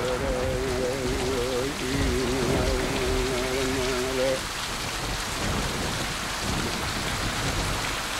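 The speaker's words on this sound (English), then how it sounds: "rain always follows." Steady heavy rain pours down, with a chanting voice over it for the first few seconds before the downpour continues alone.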